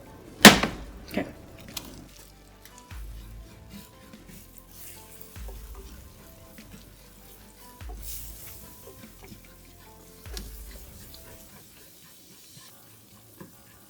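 Butter and flour sizzle quietly in a pot while being stirred, with a few sharp clanks at the start and then regular soft scraping strokes against the pot's bottom.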